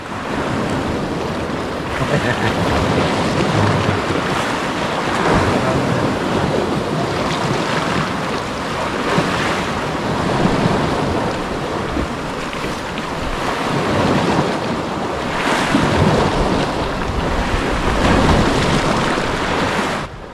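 Loud sea waves and strong gusting wind on the coast at Lubo, Batangas, a steady roaring wash of surf with wind buffeting the microphone throughout, no talk.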